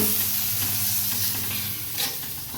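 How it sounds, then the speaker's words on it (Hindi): Paneer parathas fry on a hot pan, giving a continuous loud sizzle and hiss with faint scraping throughout, close up and with no talking. "देखिए बन रहे हैं गर्मा गर्म पनीर के पराठे।"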